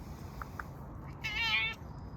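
A cat gives one clear, fairly faint meow partway through, preceded by a couple of tiny chirps, against a quiet room hum with no talking.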